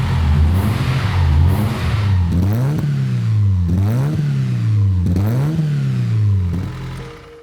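A Suzuki Swift 1300 GTi twin-cam engine revs up and down repeatedly in a steady rhythm, loud and close, then drops back toward idle.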